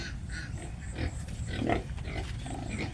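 Pigs in a pen on a pig farm grunt and snort low and close, with muffled rustling and shuffling underneath and no talk.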